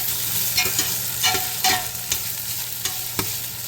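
Garlic ginger paste frying in oil in a pan for chicken biryani, with a steady sizzle and several clattering stirs of a utensil at irregular moments.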